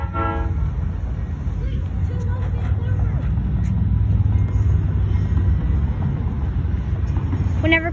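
A switcher locomotive rolls past nearby with a steady low rumble, and a short horn toot sounds near the start and again at the end.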